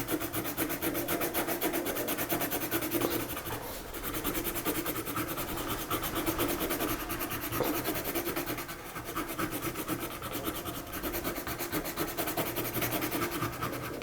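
Colored watercolor pencil rubbing steadily on paper while coloring, a continuous close scratchy rasp with only brief pauses, and no talk.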